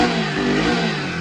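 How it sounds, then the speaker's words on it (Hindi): Hero HF Deluxe BS6 motorcycle engine running steadily and loudly just after starting following a fuel pump repair, a continuous mid-pitched hum with no voices. "देख सकते हैं गाड़ी कितना अच्छे तरीके से स्टार्ट हो गया"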